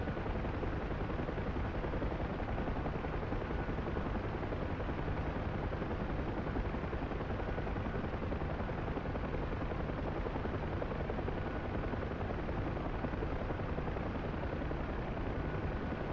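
A Huey helicopter in the DCS World flight simulator beats steadily and loudly throughout, a dense, continuous rotor-and-turbine roar with no break, heard on its own.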